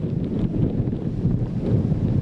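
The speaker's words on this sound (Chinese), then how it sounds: "这风太大了" Strong typhoon wind gusting on a hillside behind Chinese Culture University in Taipei, roaring continuously and loudly as it buffets the microphone, with a heavy rumble and no pauses.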